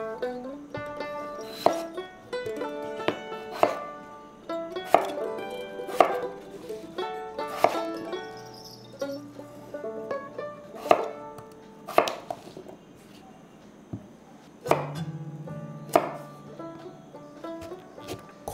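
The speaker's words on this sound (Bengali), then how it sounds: "খোসা ছাড়িয়ে ডুমো ডুমো করে কেটে জলে ভিজিয়ে রাখবে" A knife chops peeled potatoes, sweet potatoes and taro into cubes on a board, giving a steady run of crisp, close knocks with short pauses and no talk.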